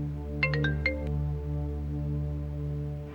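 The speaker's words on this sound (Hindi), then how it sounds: "जवाहिर का फोन है" Mobile phone ringtone in a TV drama scene: a quick run of bright electronic chirps plays over a steady, sustained tonal drone, fairly close and clear, with no speech.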